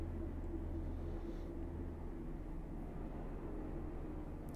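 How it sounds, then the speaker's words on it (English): Airplane passing overhead, a steady broad low rumble that holds throughout without much change, moderately distant, with no talking. "You can kind of hear the plane."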